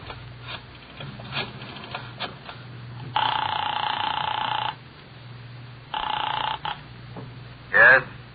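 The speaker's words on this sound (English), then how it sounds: "I dialed the Kelsey residence." A telephone dialed from a drugstore, a burst of clicks and mechanical sounds followed by two long ring tones and a short buzz, on an old radio-drama recording with a low hum and voices.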